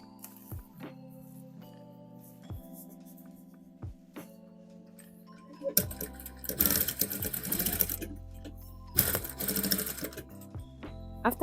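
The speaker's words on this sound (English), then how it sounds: "I'll use the machine foot as the gauge and just stitch." Sewing machine stitching a corset, opening with quiet clicks and hand-wheel taps, then two loud bursts of rapid motor-driven stitching, close up and with no talk.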